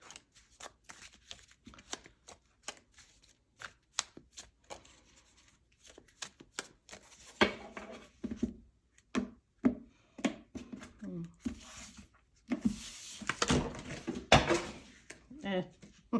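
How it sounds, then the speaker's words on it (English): Tarot cards are shuffled in a rapid run of crisp riffling flicks and soft slaps, then spill and scatter in a louder clatter, with a person talking over much of it. "Just dropped all the cards."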